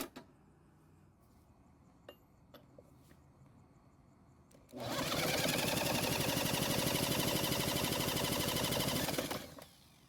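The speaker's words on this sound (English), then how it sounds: "use my drill to rotate the engine over" A cordless drill spins over a Husqvarna lawn mower engine during a compression test, a loud continuous whirring and chugging that runs for about five seconds after a few scattered clicks and handling noises.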